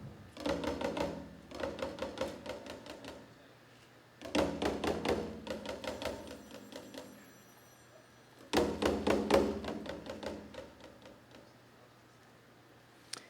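Bursts of rapid taiko drum rolls imitating wind blowing on window shutters rattle in three waves, swelling and fading with quieter gaps between, a fluttering, clattering patter with no voices.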